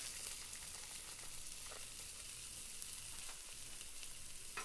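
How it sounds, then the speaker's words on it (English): A pound of sausage sizzles in a slow cooker while browning for sausage gravy, a faint, steady crackling hiss with a few soft clicks, no talking. "Take your pound of sausage and toss it in the slow cooker. It's going to sizzle."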